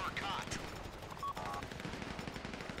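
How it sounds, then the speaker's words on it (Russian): Grand Theft Auto V gunfire crackles in fast automatic bursts at low volume, sounding somewhat distant under a busy game mix with brief electronic tones. "по ним стреляю"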